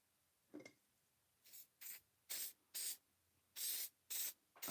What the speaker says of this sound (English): I spray everything with it